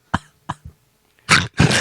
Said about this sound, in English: I sneezed and farted and coughed again.